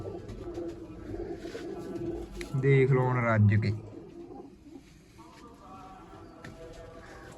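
Pigeons cooing in a loft where flying birds and larger breeding pigeons, including black ones, are kept, a deep throaty coo swelling loudly near the middle, with someone talking before and after.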